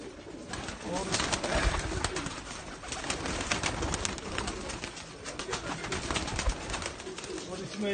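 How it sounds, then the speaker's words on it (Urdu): Super golden pigeons coo steadily in their loft, a dense, continuous murmur of overlapping calls that stays close and fairly loud throughout. "اس میں یہ سپر گولڈن میرے یہ کبوتر بیٹھے ہیں"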